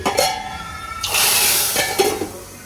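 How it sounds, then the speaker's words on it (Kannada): Hot tempering is poured into a Tulu-style curry, bursting into a loud, bright sizzle partway through, then settling into crackling hiss with stirring and clinks of a pan. "ಇತ್ತೆ ಅವು ಒಗ್ಗರ್ನೆ ನಮ್ಮ ಕಜಿಪುಕ್ ಪಾಡ್ಗ"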